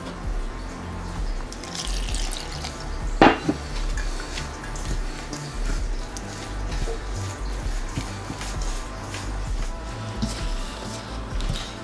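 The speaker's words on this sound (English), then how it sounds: "you have to add water into the flour with a little elbow grease" Water is poured and trickled into flour in a bowl to make dough for Jamaican fried dumplings, with steady dripping and splashing, one sharp clink of a dish, and soft kitchen clatter throughout, no voices.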